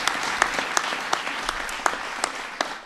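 An audience applauds with scattered, steady clapping that stays moderately loud and even for a few seconds, with no voices over it.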